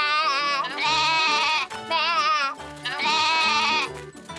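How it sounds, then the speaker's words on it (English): Cartoon goats bleat in three long, wavering calls, loud and close, each lasting about a second with short gaps between. "Hey, goats, could you baa further away?"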